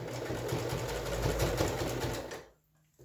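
Sewing machine stitching pleats on a fabric face mask, a steady close motor whir with rapid needle chatter that runs continuously, then stops abruptly near the end, leaving near silence.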